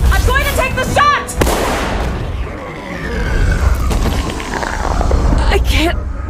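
A pistol shot in Halo Infinite rings out as a sharp, loud crack with a booming tail, set amid dense game sounds, with voices talking around it.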